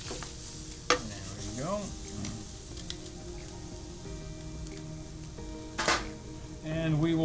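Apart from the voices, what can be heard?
salmon fillet searing in a dry saute pan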